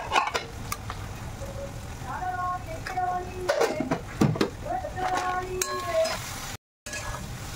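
Red chilli powder and turmeric stirred and sizzling in a pan for egg Maggi, with a steady fry hiss, scraping spoon strokes and metallic clinks throughout, and a voice talking over it.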